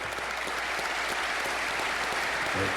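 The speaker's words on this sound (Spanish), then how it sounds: "Obviamente los aplausos resonaron porque se merecían." A crowd applauds at a political event in Ecuador, with a sustained, even wash of clapping that runs unbroken from start to finish.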